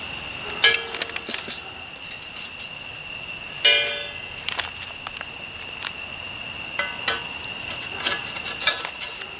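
A silver metal axle bar is slid through matching holes on a Game Winner deer cart, producing sharp metallic clinks and scraping rings, with one ringing impact near the middle and lighter taps around it.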